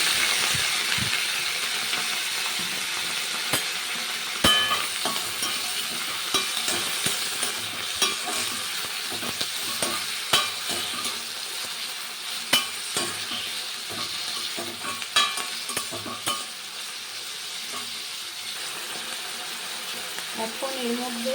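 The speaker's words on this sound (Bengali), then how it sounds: "এখন পেঁয়াজ লঙ্কা টমেটো ধনেপাতা একসঙ্গে ভেজে নেব" Onion, chilli, tomato and coriander fry together in a pan for a pakora recipe, a steady broadband sizzle with scattered clicks and scraping stirs throughout, close and moderately loud, with brief faint voice at moments.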